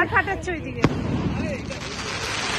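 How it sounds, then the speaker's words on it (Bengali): Fireworks bursting over a bridge during a wedding reception night: one sharp crack stands out amid a general crowd din, with people talking and calling out nearby. "এই যে বাজি ফাটছে ব্রিজের ওপরে"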